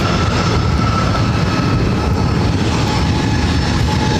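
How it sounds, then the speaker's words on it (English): A Delta Connection Embraer E175 jet landing at LAX, arriving from San Jose, gives a loud, steady, broadband engine roar that holds evenly throughout, with no voices. "This is Delta Connection 3762 coming in from San Jose, California on an E175."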